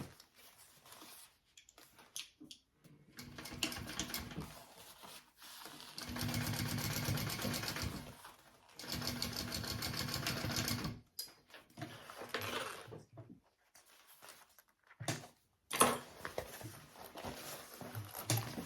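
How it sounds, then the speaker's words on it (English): A sewing machine top stitches a sling bag up close, running in several bursts of steady rapid whirring and needle chatter, some a few seconds long, separated by brief quiet pauses. "I'm going to turn these so I can top stitch this side"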